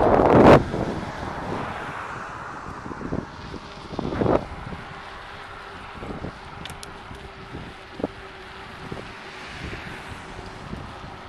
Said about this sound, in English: This section is probably going to sound windy. That's because there's a little bit of wind.